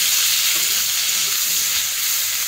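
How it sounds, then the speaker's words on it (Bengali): Potato and green banana pieces fry in hot oil with a loud, steady, bright sizzling hiss that carries on unbroken and close. "এখানে আলু কাঁচকলা ভাজা হচ্ছে, এগুলো একটু লাল লাল করে ভেজে নেবো"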